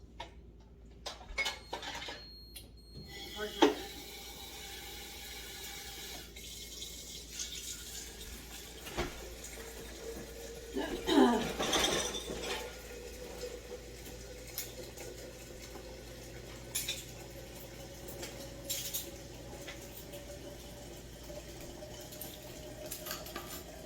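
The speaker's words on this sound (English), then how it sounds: "I'm going to do the dishes as well." Dishes and cutlery clink and clatter in a kitchen sink with running water, scattered knocks and rattles near the microphone, a louder burst of clattering partway through, no talking.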